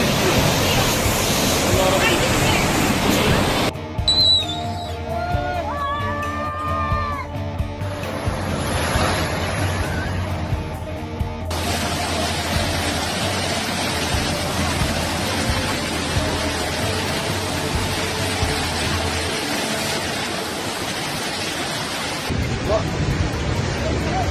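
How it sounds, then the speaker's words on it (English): Heavy rain and rushing flash-flood torrents pour through the streets of Bhutan's capital, a loud, continuous watery roar that shifts in character across abrupt cuts. "the rains have turned into torrents and even terrible floods in the cities of Bhutan"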